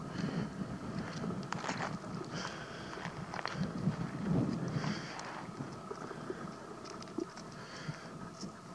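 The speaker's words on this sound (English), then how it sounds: "The wind's blowing." Wind gusts outdoors on a September day in Wyoming, a steady broadband rush with uneven buffeting against the microphone and occasional soft rustles and taps, continuous throughout with no voices.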